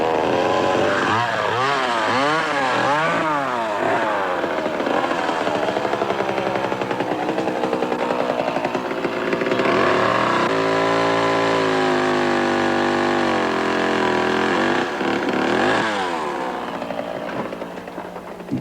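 A chainsaw cuts through jungle roots at a Maya excavation site. Its loud, close engine snarls and whines continuously, the pitch surging and dropping as it revs and bites into the wood.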